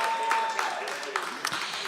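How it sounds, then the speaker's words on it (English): Audience applause at a live bluegrass radio show performance, scattered clapping rising in bursts beneath a host talking over it. "Y'all give a great big round of applause there"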